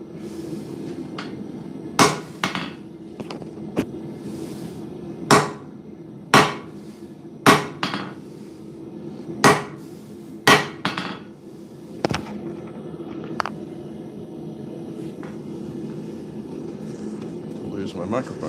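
Sharp, ringing hammer blows strike the mushroomed top of a steel drift, about a dozen separate hits at irregular intervals against a low background hum.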